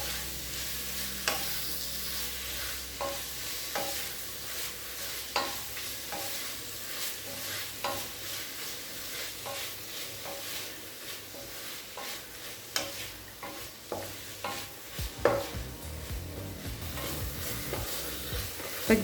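Spinach (palak) being stirred and sautéed in a pan for a Tamil keerai rice dish: a continuous soft sizzle with repeated scraping stir strokes, close and fairly quiet, with no talking.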